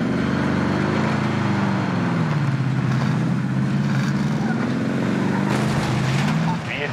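Car engine droning steadily while driving in Warzone, loud and continuous with gentle pitch swells, under background game sounds.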